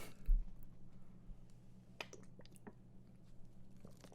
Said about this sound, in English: Let me drink some water.